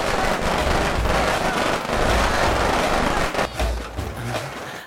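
Firecrackers burst in a scene from a Tamil action drama film, producing a loud, dense, continuous crackle of rapid pops and bangs that thins out briefly toward the end.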